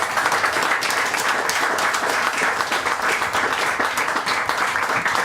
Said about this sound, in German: dann würde ich sagen, Applaus für Lorenz Schmidt